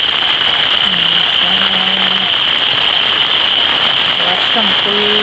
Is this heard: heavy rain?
yes